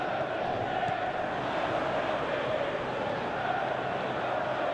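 A football stadium crowd in the PES 2024 video game during a Dundee versus Kilmarnock match: a steady, dense roar of many voices that holds evenly throughout, moderately loud with no breaks.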